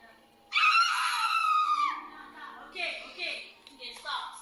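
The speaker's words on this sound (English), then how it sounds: "She lets out a horrible scream and the clip comes to an abrupt end." A woman lets out a loud, horrible scream lasting over a second, followed by fainter strained cries and whimpers during a live stream.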